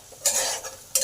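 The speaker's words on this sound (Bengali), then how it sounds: "নুন আর হলুদটাকে পটলের মধ্যে ভালো করে মিশিয়ে দিলাম।" Pointed gourd is stirred with salt and turmeric in a pan, giving two quick, close scraping strokes with a short pause between them.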